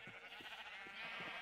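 Faint, short sheep bleats in the video game Minecraft repeat a few times over a steady background hum, distant and quiet.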